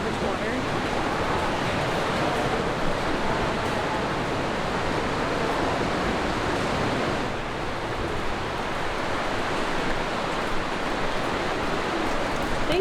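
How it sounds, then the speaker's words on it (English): Heavy water dripping and pouring inside caves in Switzerland makes a steady, loud hiss of falling drops and spray, dipping briefly midway, with a voice faintly under it. "Caves are making it rain because they're just dropping so much water."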